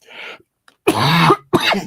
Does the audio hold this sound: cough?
yes